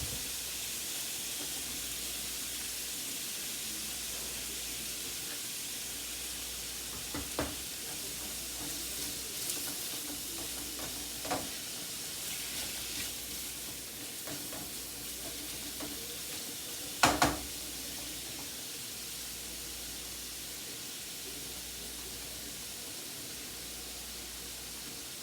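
Shrimp sautéing in a pan give a steady, broadband sizzle that carries through the whole stretch, broken by a few sharp stirring clinks and scrapes, one louder knock near the end.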